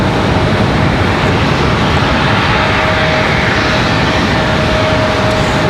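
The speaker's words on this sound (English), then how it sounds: "Copa is up and out of here, or will be here shortly" Copa airliner taking off from the runway at Raleigh-Durham International Airport, a loud, steady broadband jet engine roar that fills the whole stretch without letting up.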